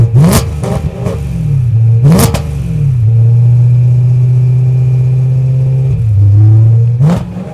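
A warm car engine starts up and revs, a deep, muffled, loud drone with sharp rising rev bursts at the start and again near the end, steady idle-like hum between.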